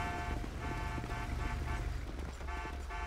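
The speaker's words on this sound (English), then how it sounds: "That way they kind of just stop honking and stuff" Car horns honk in GTA 5, several sustained toots sounding in overlapping bursts over steady traffic rumble, loud and close with brief gaps between blasts.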